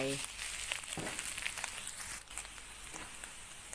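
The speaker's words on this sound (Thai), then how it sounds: "แล้วก็เอาไข่ที่เหลือเทลงไป" Loud, crackling sizzle of egg poured into a hot wok, steady and hissing throughout, with a brief voice at the start.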